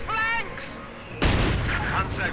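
Gunfire and mortar fire in a WWII strategy game battle, with Soviet snipers firing on a crew: a sustained loud crackle that erupts into a heavy blast partway through, over continuous battle din.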